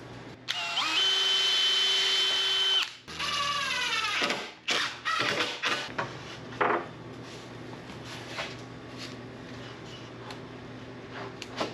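A power drill drives two screws into a tongue-and-groove mobile wall, giving a loud sustained whine that speeds up and then slows, followed by a second shorter burst and scattered handling knocks and clatter.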